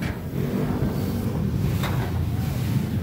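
Strong wind roars and buffets steadily against the microphone, a constant low rumble with no letup and no voices.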